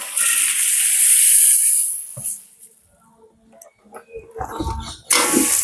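Dried red chillies roasting in a pan give a loud, bright sizzling hiss that fades away, followed by softer scattered scrapes and clatters, then a renewed burst of hiss.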